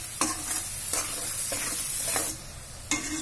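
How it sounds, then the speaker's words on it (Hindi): Onions and spice masala frying in a pan for stuffed karela, a continuous close sizzle broken by several scraping stirs of a spoon, with no voices. "अच्छी तरह प्याज भून जाने हैं, इसके बाद टमाटर डालेंगे।"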